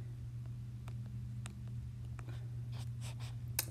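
A pen or pencil scratches across paper while a box is drawn by hand, giving faint, intermittent strokes over a low steady hum from a quiet room.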